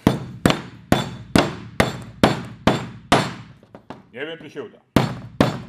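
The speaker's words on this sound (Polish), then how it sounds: "Tylko wezmę młotek." A hammer strikes a metal part in a steady series of about a dozen sharp, loud clanging blows at a rapid, even rhythm, with a brief pause midway where someone speaks.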